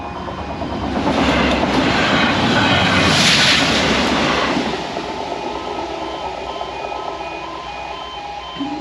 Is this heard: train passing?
yes